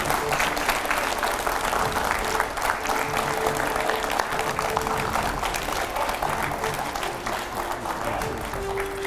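Studio audience in a TV 9 news studio applauds as filmmaker Ashok Pandit walks in, sustained crowd clapping that stays loud and even for several seconds, with faint voices underneath.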